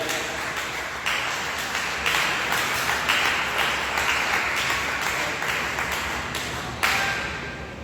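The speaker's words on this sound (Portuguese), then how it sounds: "dê uma salva de palmas para Jesus bem alegre" Church congregation clapping together in a round of applause during a service, dense and continuous with loud rhythmic swells that rise and fade in bursts, ending in a sudden louder surge before tapering off.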